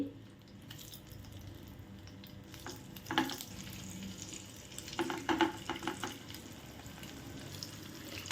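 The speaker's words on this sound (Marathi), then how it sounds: "ह्यामध्ये जी आपली अंडी आहेत ती भाजून घेऊया थोड्याशा तेलामध्ये आपल्याला फक्त परतून घ्यायची आहे" Boiled eggs sautéing in a little oil with garam masala over a low-to-medium flame, a soft continuous sizzle broken by a few clinks and stirring scrapes of the pan, with no voices.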